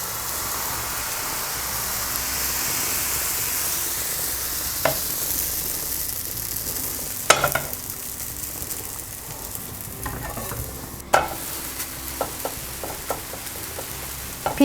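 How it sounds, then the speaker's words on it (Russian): Thin pancake batter made with kefir sizzles steadily in a hot pan, a constant hissing fry with occasional clinks and scraping of a utensil toward the end. "Наливаем на сковороду и быстро"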